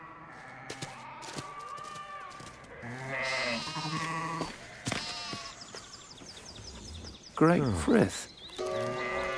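A flock of sheep bleats in a burst of overlapping wavering calls, some near and loud, on a stormy-night hillside, with talking voices between the cries.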